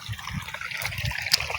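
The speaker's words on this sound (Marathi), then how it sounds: "तो आता थोडासा प्रेशरने पाणी जातं ना" Water runs under pressure through a length of pipe, giving a soft, steady hiss and gurgle that stays faint throughout.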